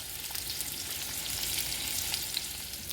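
Wagyu burger patties fry in a pan, turned down to cook slower, giving a steady, close hiss of sizzling fat with small pops and crackles throughout.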